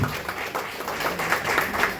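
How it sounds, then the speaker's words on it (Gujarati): An audience claps and applauds for the guest at a savings cooperative society branch anniversary event, a steady, broad wash of hand claps lasting about two seconds with no clear speech over it. "સાહેબ માટે દિલથી તાળી થવી જોઈએ,"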